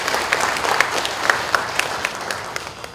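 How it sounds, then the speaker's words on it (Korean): An audience at a Busan civic watchdog launch ceremony breaks into warm, sustained applause, a dense steady patter of many hands clapping at moderate volume in a hall. "다시 한번 따뜻한 박수를 드립니다."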